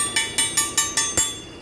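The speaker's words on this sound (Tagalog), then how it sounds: "So para malaman natin kung basag yan, kakatukin mo yung ganyan." Six sharp, evenly spaced knocks on a Hyundai Sonata DN8 transmission part, each a bright metallic tap with a short ringing decay, checking whether the metal is cracked.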